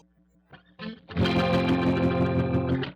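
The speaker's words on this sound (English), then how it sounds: "the distortion is really just unbearable" Electric guitar chords through a modulation pedal set high enough to distort, loud and sustained with a harsh buzzing fuzz after a few quieter plucked notes.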